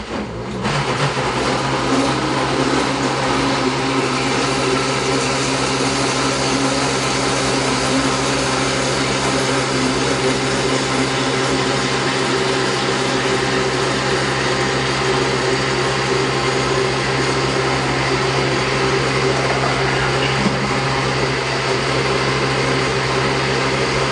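A kitchen blender blends 1.5 cups of milk into a pie filling, giving a steady, loud motor whir that runs almost unbroken throughout with a constant high-pitched hum.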